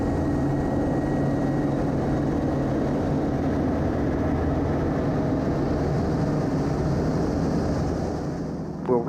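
YAK-50 propeller aerobatic aircraft in flight, a loud, steady, close engine and propeller drone with a dense low rumble that holds throughout and eases slightly at the very end.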